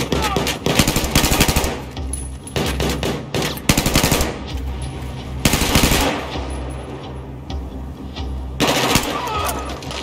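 Rapid machine gun bursts crack out in a Battlefield 4 firefight, loud and close, with stuttering volleys, brief gaps and faint shouted voices in the mix.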